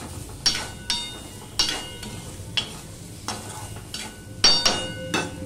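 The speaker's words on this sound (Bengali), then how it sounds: "আর এই হলুদটুকু দিয়ে দিলাম। দিয়ে সম্পূর্ণ মিশিয়ে নিয়ে আমি" Spoon scraping and stirring pumpkin and bitter gourd with turmeric in a pan, a series of sharp, close scrapes roughly every second over a soft sizzle, with no talking.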